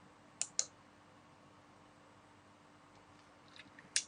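A computer mouse gives a quick double click, then falls silent for a few seconds before one more sharp click and a few faint taps, all close and crisp against a quiet room.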